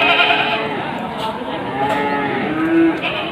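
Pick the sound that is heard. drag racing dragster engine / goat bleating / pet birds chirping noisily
goat bleating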